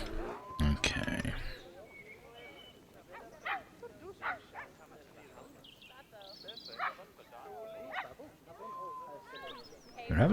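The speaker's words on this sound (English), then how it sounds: "I feel like I hear a puppy barking." A puppy in a zoo-building game yaps and whimpers in short, scattered high-pitched bursts, mostly faint and heard beneath frequent conversational talk.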